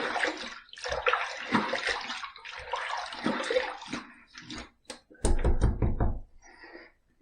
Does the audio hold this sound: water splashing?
yes